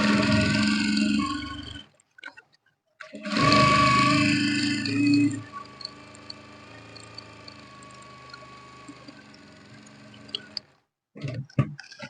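A sewing machine runs a straight stitch across the top of a Yoruba fila cap, with a loud close whirring burst, a pause, a longer run, then quieter intermittent ticking.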